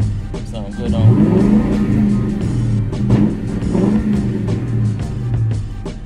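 A 2004 Ford Mustang GT engine revs to around 3,000 RPM and holds at a steady mid-range rumble, easing off and climbing again in a few loud, sustained pulls.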